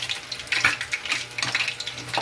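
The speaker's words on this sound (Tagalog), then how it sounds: "malapit na matapos ang aming pagpiprito ng maskara tsaka tinga ng baboy" Pork mask and pork ears deep-frying in a pan, a steady crackling sizzle with dense bursts of popping oil, close and fairly loud with no talking.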